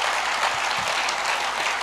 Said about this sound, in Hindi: इतनी ताली बजी